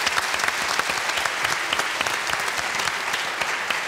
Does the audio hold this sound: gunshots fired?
no